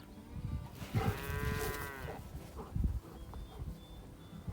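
Cattle on an old-fashioned cattle drive, cows with their calves, let out a loud, drawn-out moo close by, followed by fainter, shorter lowing calls, with no talking.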